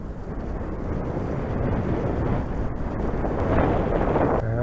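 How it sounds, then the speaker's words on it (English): Cold northerly wind blows across a hillside slope used for flying radio-controlled gliders, a steady low rumbling buffet on the microphone that swells slightly toward the end, with no voices. "the northerly wind is freezing cold"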